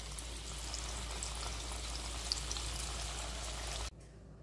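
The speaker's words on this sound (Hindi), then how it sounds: "तो यहाँ पर ये बचे हुए भी फ्राई कर लेते हैं" Aloo sooji snacks deep-frying in hot oil give off a steady, dense sizzle with fine crackling that continues evenly and then cuts off abruptly near the end.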